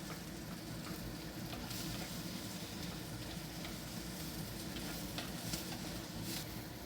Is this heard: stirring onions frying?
yes